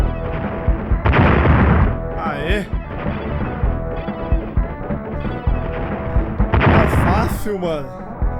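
Gunfire from the Super Nintendo game, a busy run of loud shots and booms mixed with game music and effects, with bursts of heavier blasts near the start and end.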